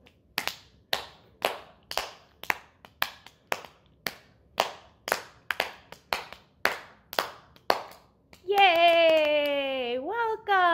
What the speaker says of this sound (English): Okay, now we're gonna clap along for you at home.